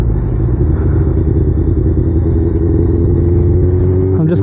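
A sportbike pushes through heavy traffic, its engine a loud, steady close-up drone that climbs slightly in pitch near the end as it gathers speed.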